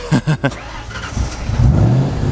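Ford Mustang GT with a swapped 4.6L 4V engine, a few quick clunks as the clutch goes in and first gear engages, then a low engine rumble rising beneath.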